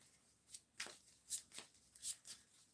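Tarot cards shuffled by hand in a series of quick, crisp riffling bursts, close and quiet, with no talking.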